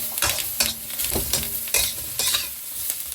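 Peppers stir-fry in a hot wok for a Chinese pork dish (xiao chao rou), giving a loud, continuous sizzle broken by regular scraping tosses of the spatula, with no talking.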